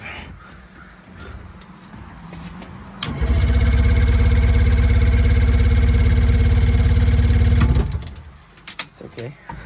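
A cheap used boat's outboard engine fires up after priming and runs loud and steady for about four seconds before cutting out, with quieter clatter and voices on either side.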